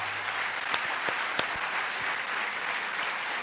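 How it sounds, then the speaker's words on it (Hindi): A large seated crowd at a religious gathering applauds vigorously, a dense continuous roar of clapping with a few sharp louder claps standing out near the microphone. "उनको जोरदार ताली बजा के धन्यवाद दो"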